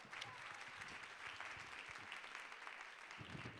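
Audience applause at a Bollywood Bash stage show after a performance, a steady quiet patter of many hands clapping at a distance, unbroken for a few seconds.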